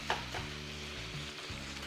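Steady sizzling and crackling of ground beef frying in a pan, with a brief scrape of a utensil near the start; no talking.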